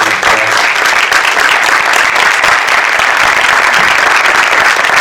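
Loud, dense audience applause at a film festival screening event, a steady wash of many hands clapping close by that continues evenly throughout.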